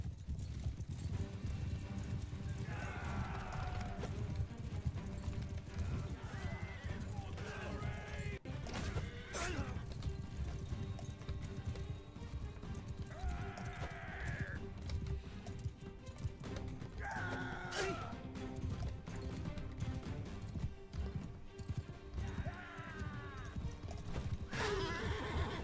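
Horses in a Bannerlord battle neigh and whinny several times over a steady background of hooves and fighting din, with occasional sharp crashes.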